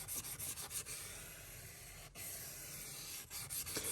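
A single bevel oboe knife scrapes back and forth across a 320 grit sharpening stone in a close, steady rhythmic rasping, with brief pauses between strokes.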